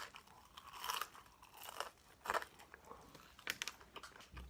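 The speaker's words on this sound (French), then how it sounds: "Les frites, elles sont bien croustillantes. On sent bien la croustillance." Crispy french fries being chewed close up, with sharp crunching bites in irregular bursts and quieter mouth sounds between them, alone with no talk.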